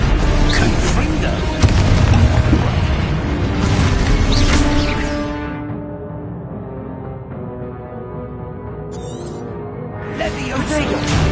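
In the Hogwarts Legacy game a Confringo spell detonates with a loud, deep booming blast that rumbles on. A voice is heard over the blast, then a quieter stretch follows and a second burst rises near the end.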